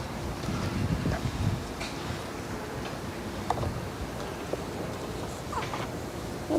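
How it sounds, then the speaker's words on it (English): Wind blowing outdoors, a steady rumbling buffet of gusts across the microphone, loud and continuous throughout with faint rustling, no talk. "it's a little bit of wind"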